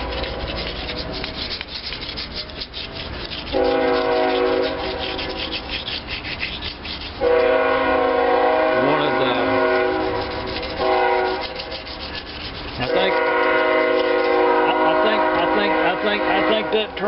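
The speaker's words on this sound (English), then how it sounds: "I hear the train in the neighborhood this evening." A train sounds its horn near a residential neighborhood in the evening: three long, loud, sustained blasts with short gaps between them, over a constant rumbling, rubbing background.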